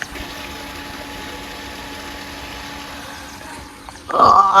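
A swimming pool filter pump motor at a farmhouse hums steadily and evenly, then a louder burst of splashing water breaks in near the end.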